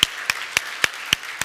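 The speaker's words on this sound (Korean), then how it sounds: "우리 한번 이분들에게 큰 감사와 격려의 박수 한번 드리겠습니다" A church worship service hall echoes with crisp hand claps falling in a quick, even rhythm, six distinct claps close together with no talking.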